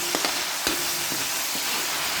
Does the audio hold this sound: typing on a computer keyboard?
no